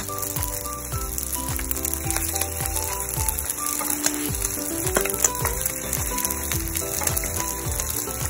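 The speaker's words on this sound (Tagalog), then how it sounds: "inuumpisa na natin ng ating pagpiprito" Pork spare ribs frying in hot oil for salt and pepper ribs: a steady, dense sizzle with constant crackling and popping that runs unbroken throughout.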